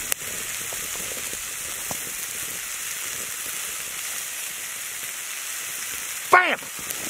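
Onions with brown sugar fry in a pan over a wood-burning rocket stove, giving a steady close hiss that runs throughout, with a brief louder clatter near the end.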